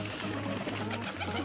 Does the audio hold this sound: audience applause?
no